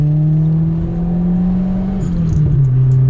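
A Peugeot 406 taxi engine climbing in pitch as the throttle reopens on a track, a loud, close, steady drone that rises smoothly with a few faint clicks above it.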